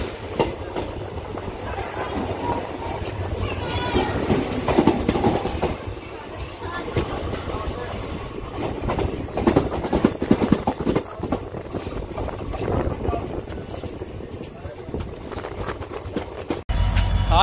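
Train passing through Buani Kheda railway station, a steady rolling rumble with wheel clatter close by, sustained for the whole stretch under a voice talking over it.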